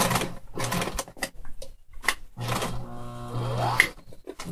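A sewing machine stitches fabric in short rapid bursts of mechanical chatter, stopping and restarting at close range.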